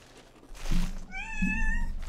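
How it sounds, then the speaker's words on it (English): A cat on a desk gives a short meow, a brief pause, then a longer clear meow, close and loud with quiet room tone beneath. "Okay, I have to get this cat off my desk."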